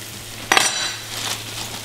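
French toast fries in butter in a skillet, a burst of sizzling and a clink of pan or utensil at the start, then a softer steady crackle continuing underneath.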